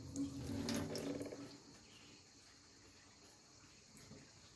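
Water tipped out of a mung bean sprouting jar into a sink: a brief close splash and pour that fades after about two seconds into a faint steady hiss, quiet overall with no talking.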